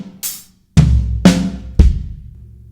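Four sharp, close drum hits in a linear fill spread across snare, hi-hat, floor tom and kick, each strike ringing out briefly before the next, played alone without talking.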